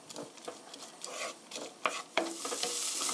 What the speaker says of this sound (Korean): 3minutes stir 3분간 볶아주세요.